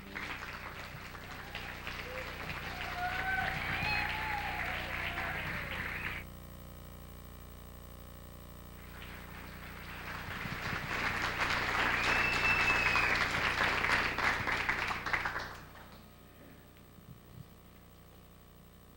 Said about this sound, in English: give me the loudest applause you possibly can for Professor Rozalind.